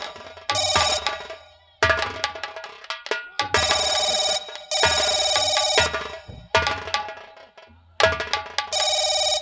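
A telephone bell rings loudly and insistently in repeated bursts separated by short gaps, close by, with no talk over it.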